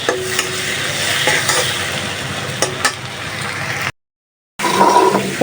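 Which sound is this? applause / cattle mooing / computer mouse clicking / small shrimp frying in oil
small shrimp frying in oil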